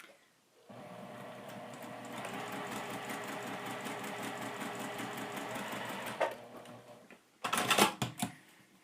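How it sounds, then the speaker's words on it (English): A sewing machine stitches along a drawn line on a quilt block in a fast, steady rhythmic run for several seconds, then stops, followed by a few sharp clicks and clunks. "at the sewing machine, all right, we're going to stitch on that drawn line."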